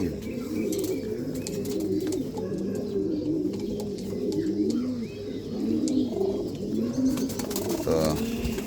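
Pigeons coo repeatedly inside a mud-built loft, soft overlapping burbling calls close by, with occasional wing flutters and light rustling.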